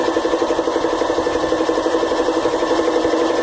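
A CX 704 minilathe takes a roughing cut on a collar, its motor and cutting making a loud, steady whirring hum with a fast rhythmic pulse and no voices.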